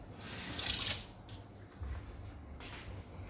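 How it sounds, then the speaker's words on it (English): Tap water runs softly into a sink while hands are wetted for rolling coconut and almond macaroon mixture, a faint steady splashing with small surges and a couple of light knocks. "So we just wet our hands."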